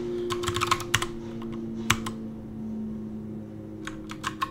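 Someone types a terminal command on a computer keyboard, a burst of quick, close key clicks, then a pause with a single stroke, and a few more taps near the end over a steady low hum.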